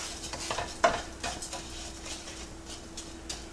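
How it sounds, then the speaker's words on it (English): Rice browning in a skillet, scraped and stirred with a wooden spoon: a soft, steady background sizzle with light scraping strokes and one sharper knock of spoon against pan near the start. "So we're just going to brown this just a little bit."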